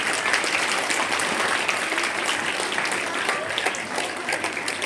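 Sustained audience applause at a children's award ceremony, dense and steady clapping filling the room from start to finish with no speech over it.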